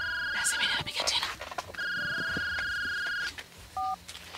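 A telephone rings with an incoming call, giving bright electronic tones in short repeated bursts. Voices murmur around and between the rings.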